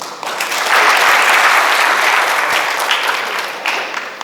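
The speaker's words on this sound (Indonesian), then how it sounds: "Tepuk tangan dong." An audience at an inspirational talk bursts into loud, dense applause, with sustained crowd clapping that holds steady for several seconds and then begins to thin, with no talking over it.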